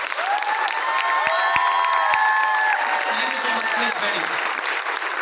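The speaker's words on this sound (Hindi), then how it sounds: "एक बार अपने अपने गुरुओं के लिए एक बार जोरदार तालियां बजाओ।" A large crowd at a product-launch event in a five-star Delhi hotel bursts into loud, continuous clapping and cheering, with shouts and whoops layered over the steady applause throughout.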